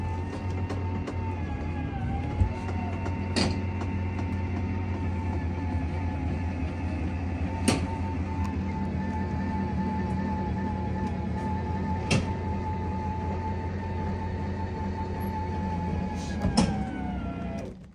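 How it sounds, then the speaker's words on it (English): A motorhome slide-out retracting on its electric motor gives a steady, close mechanical drone with a low hum underneath, broken by a few sharp clicks or clunks spread across the run. "I'm gonna do the slide because I want you guys to hear the slide working"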